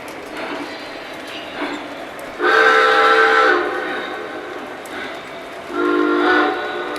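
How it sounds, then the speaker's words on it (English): A model train locomotive runs on a layout, its low running noise broken by two strong horn blasts, one longer and one shorter, heard close up. "That's a great sounding locomotive."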